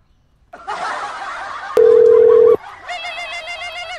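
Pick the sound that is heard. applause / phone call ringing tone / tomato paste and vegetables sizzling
phone call ringing tone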